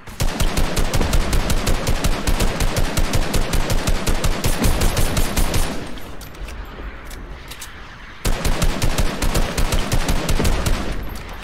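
Rapid automatic gunfire in a video game, loud and close, sustained for several seconds, briefly dropping away to a quieter lull before the full burst resumes, with no talking.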